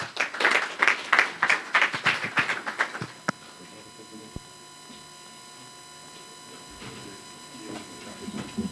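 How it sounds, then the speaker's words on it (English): A big round of applause from a conference audience at an NGO gathering in Nyanga, loud and dense for about three seconds, then cutting off abruptly into quiet room tone with a few scattered claps near the end. "Please, there he is, a big round of applause."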